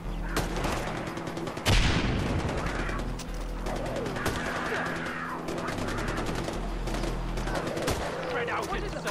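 Gunfire in the PC game Far Cry 4, with rapid bursts of shots and heavy impacts over a steady rumbling game soundscape, while in-game voices shout now and then.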